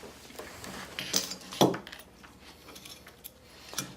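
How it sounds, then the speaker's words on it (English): Small metal Allen keys dropped while a paintball marker is taken apart, giving a few sharp light metallic clinks and rattles, one clearer clatter in the middle, fairly close and quiet. "Oops, try not to drop your Allen keys."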